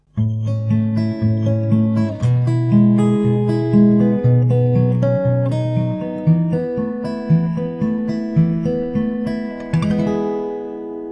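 An acoustic guitar plays the chorus and outro of a song as a picked chord progression, steady and close, with notes ringing into each other before ending on a final strum.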